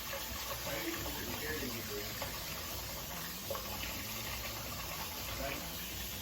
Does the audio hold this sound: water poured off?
yes